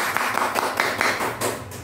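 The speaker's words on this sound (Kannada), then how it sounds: "ಸರಿಯಾದ ಉತ್ತರ. ಚಪ್ಪಾಳೆ." An audience claps briefly after a correct answer in a talk-style quiz, a short burst of quick hand claps that fades within two seconds.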